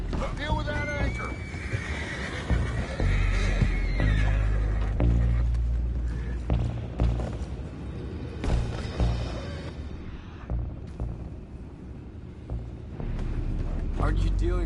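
Horses in Red Dead Redemption 2 neigh and whinny loudly several times amid clopping hooves and heavy in-game background noise on a boat deck, with voices talking throughout.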